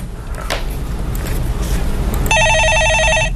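A telephone rings on a Korean stock-market call-in broadcast. The electronic warbling trill starts suddenly near the end and sounds loud over a steady hum of studio background noise.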